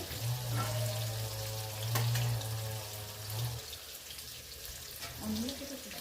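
Potatoes frying in a pan in a home kitchen give a soft, continuous sizzle, with a low hum and a faint sharp crackle partway through.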